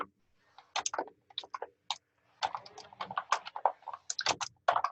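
Quiet, close clatter of fingers typing on a computer keyboard, irregular bursts of keystrokes separated by short pauses, with no one speaking.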